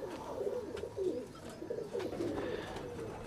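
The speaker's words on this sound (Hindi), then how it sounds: "ये नईम साहब का ब्रीडर कबूतर है" A breeder pigeon of the Batera Ali Wala line coos in a steady series of soft, low, rolling calls, close by and fairly quiet, with no talk.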